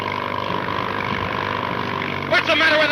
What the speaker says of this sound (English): What's the matter with that engine?